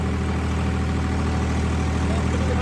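A Mahindra 855 4x4 tractor engine running in third medium gear, a steady, loud diesel drone with a constant low rumble and no change in pitch throughout, without any talk over it.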